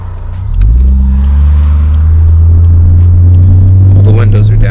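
A Toyota Chaser JZX100 Tourer V with an HKS Silent Hipower exhaust starts driving off, its deep engine rumble rising quickly and holding as a loud, steady low drone close by.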